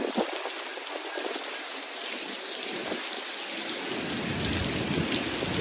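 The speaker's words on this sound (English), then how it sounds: "If you're outside, there is no way to stay dry with this blowing rain." Wind-driven rain from Hurricane Delta making landfall in Louisiana lashes down in a steady, dense hiss, with gusts swelling and easing and heavier bursts toward the end, loud and close with no voices.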